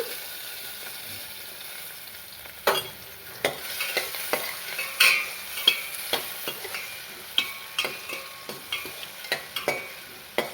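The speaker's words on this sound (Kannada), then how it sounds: "ಫ್ರೈ ಮಾಡ್ಕೊಳ್ಳೋಣ. ಹೀಗೆ ಫ್ರೈ ಮಾಡೋಣ." Tomato fries in a pan for an egg roll filling, with a steady sizzle broken by repeated sharp spatula stirs and scrapes, close and without speech.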